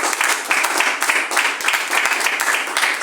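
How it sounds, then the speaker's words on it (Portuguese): Church congregation clapping after a prayer during a Portuguese-language worship service, a dense, steady round of applause that fills the room, with scattered sharper claps and no talking over it. "Dá uma salva de palmas para Jesus Cristo"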